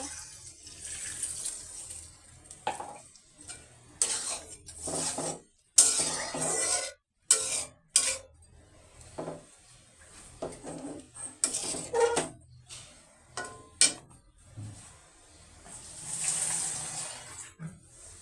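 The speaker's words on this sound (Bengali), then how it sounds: "এখন আমি এখানে পানি দিয়ে দিব।" Water is added to a pan of fish curry masala that has been frying, with splashing and sizzling in uneven bursts between quieter gaps, and occasional stirring, close by and without talk.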